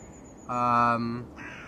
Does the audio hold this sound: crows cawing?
yes